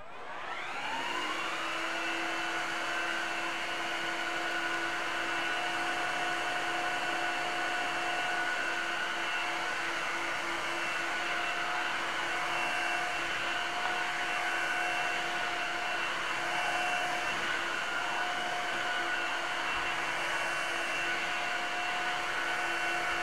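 Floor-cleaning vacuum cleaners run continuously during a product test, a steady loud motor whine with stable tones that holds evenly for the whole stretch, with no talking.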